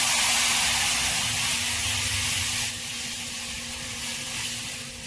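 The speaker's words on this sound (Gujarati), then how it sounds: "હવે એને છાશનો વઘાર દેવાનો." Buttermilk poured into a hot spiced tempering of turmeric and curry leaves for Kathiyawadi besan dhokli curry gives a loud, steady steamy hiss and sizzle that eases slightly partway through, with no talking.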